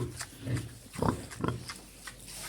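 A sow and her piglets in a pen grunting softly, a few low snuffling grunts rising and falling in a quiet barn, with small squeaky piglet noises between them.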